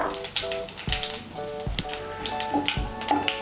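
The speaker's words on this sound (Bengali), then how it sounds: "এর মধ্যে আমি দিয়ে দিচ্ছি এখন ফোড়নের জন্য নিয়েছি একটা তেজপাতা, একটা শুকনো লঙ্কা আর গোটা জিরে" Bay leaf, a dried red chili and whole cumin seeds sizzling in hot oil in a pan, a close crackling, popping sizzle with scattered sharp taps, heard alone.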